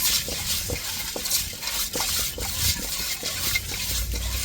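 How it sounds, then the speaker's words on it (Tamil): Five fish being rubbed with coarse rock salt, a steady, close scraping and gritty rustle with repeated rhythmic strokes throughout. "இப்போ இந்த 5 மீனையும் நல்லா உப்புக்கல்லை போட்டு உரைச்சி எடுத்துக்கிடுவோம்"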